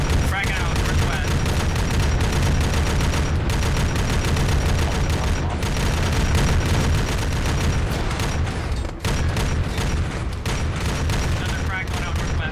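Dense gunfire and grenade blasts in an Arma 3 firefight, continuous loud bursts and booms with sharp gaps, while voices talk over the combat throughout.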